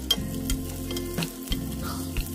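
Onions and green chillies sautéing in a pan while prawn biryani is being prepared, a steady close sizzle broken by a few sharp stirring scrapes at an even pace.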